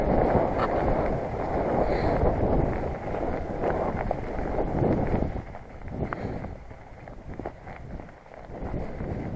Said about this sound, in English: It's quite choppy down here tonight.